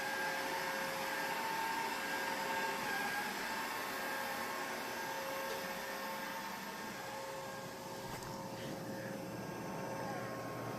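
A Neato D85 robot vacuum cleaner runs steadily indoors as it vacuums back and forth, giving a constant whirring drone with a faint bump near the end and no talk over it.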